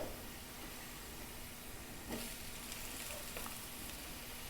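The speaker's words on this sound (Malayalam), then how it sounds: "ഇനി നമ്മൾക്കിതിൽ തക്കാളി ഇട്ട് കൊടുക്കാം അല്ലേ" Tomato goes into mushrooms frying in a pan for a Kerala mushroom roast, a faint steady sizzling hiss with a brief louder burst of crackle partway through.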